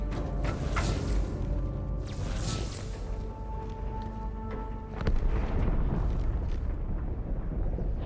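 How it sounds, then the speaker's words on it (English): A huge explosion rolls out of a starship during a Halo 2 cutscene, a sustained rumbling roar with a swelling second surge midway, mixed with dense sci-fi sound and music. "That explosion came from inside the Athens, same as the Malta."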